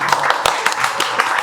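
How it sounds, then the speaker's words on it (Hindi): Audience clapping at an institute event, a quick run of loud, irregular hand claps close by, filling the short moment without any speech. "तो उनके लिए थोड़ा तालियां हो जाए भाई"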